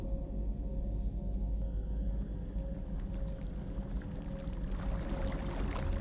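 Steady rushing and pouring water loops on a level in the first-person shooter Marathon Infinity, a continuous dense wash with a low rumble and a few faint tonal hums under it, no voices.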